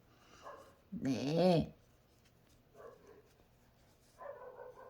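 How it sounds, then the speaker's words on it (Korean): A dog barks somewhere outside, muffled and distant, in a short burst of yips; a person briefly speaks nearby, and quieter indoor sounds follow. "우리 밖에서 강아지가 짖고 있어요."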